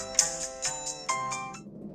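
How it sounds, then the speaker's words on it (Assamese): A phone ringtone plays late at night as a short, bright, melodic sequence of chiming tones, clear and fairly close, fading out after about a second and a half. "ইমান ৰাতিনো কোনে ফোন কৰিলে?"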